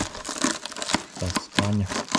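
Rusted floor metal of a Mercedes Vito van crumbles and tears apart like paper, a series of brittle crunching, crackling bursts up close, with a louder rasping tear near the end.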